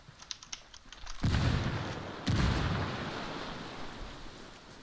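A frag grenade in the Ghost Recon video game lands with a few light clinks, then two heavy back-to-back explosions boom in quick succession, each followed by a long rumbling, crackling decay.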